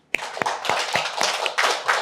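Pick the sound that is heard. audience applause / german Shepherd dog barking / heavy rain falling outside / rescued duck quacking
audience applause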